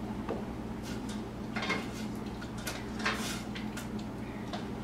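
Knife chopping red bell pepper, cucumber, serrano chiles and onion on a board, heard as a string of light, irregular taps and clicks against a steady background hum.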